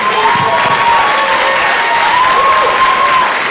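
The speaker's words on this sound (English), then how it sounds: "Can I get a big round of applause for the entire Modesto Community College team?" An audience at a college speech and debate night applauding the Modesto community college debate team: loud, sustained clapping from a large crowd, dense and even, with a faint tone running under it.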